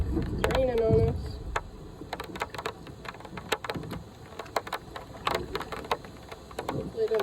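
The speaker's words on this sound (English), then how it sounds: "It's raining on us." Rain patters and taps on inflatable stand-up paddleboards floating on a river, a dense scatter of sharp drops over a steady wash, with voices talking briefly near the start.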